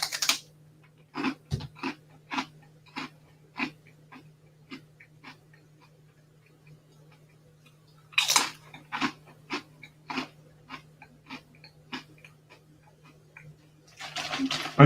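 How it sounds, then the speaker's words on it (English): Close chewing and crunching of Asian snack crackers resembling pigskin chicharron, a rhythmic series of sharp crisp crunches that fade between bites, over a low steady background hum. "you're going to hear chewing and crunching and biting."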